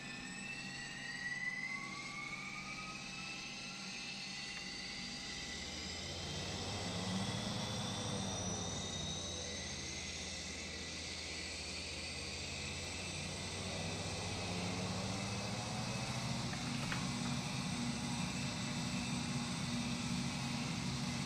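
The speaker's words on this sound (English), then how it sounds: "let's start an engine." Jetstream JS4100 turboprop engine spooling up from start in a flight simulator, a rising whine and swelling hum building steadily over the cockpit background, fairly quiet and continuous.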